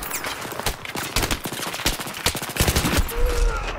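Rapid gunfire in a Battlefield 3 Venice Unleashed team deathmatch against bots: sharp repeated shots and automatic bursts crackle close and far over about four seconds, busy and loud throughout.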